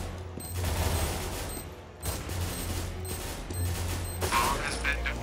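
A bomb being defused in CS:GO: a steady mechanical clicking and whirring runs throughout, mixed with game ambience and distant activity at moderate level.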